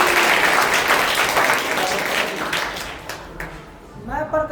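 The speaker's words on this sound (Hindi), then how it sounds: "तालियां।" Audience at a staged drama performance applauds loudly, a dense steady clapping that gradually thins out over several seconds before a voice begins speaking at the end.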